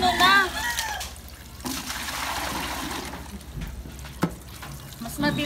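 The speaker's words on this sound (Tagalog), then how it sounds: "Mas malakas yung tubig dito kasi doon sa kabila." Strong running water pours steadily with a splashing, hissing rush, while a person talks briefly at the start and a sharp knock cuts through near the end.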